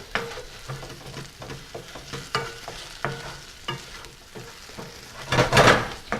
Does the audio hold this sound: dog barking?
no